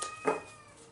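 A single short, soft cat meow, fairly close, in an otherwise quiet room.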